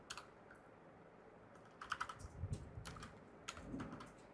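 Keys tapped on a computer keyboard at a desk, a few scattered clicks then short quick bursts of typing, close and fairly quiet with no talk.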